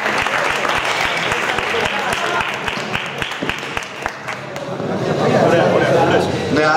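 An audience at a powerlifting bench press event applauds, with dense clapping that thins out partway and then swells again with crowd voices and shouting.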